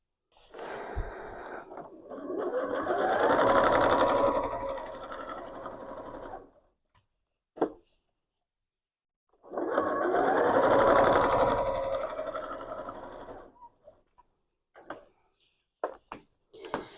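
A sewing machine runs in two long bursts of steady stitching, about five seconds each, free-motion quilting through a thick quilt, with a gap and a few faint knocks between and after.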